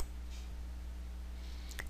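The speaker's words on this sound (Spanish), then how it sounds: "enseguida daremos un clic en el botón adjuntar" A single sharp mouse click on an attach button at a computer, sounding once near the end over a steady low electrical hum in a quiet room.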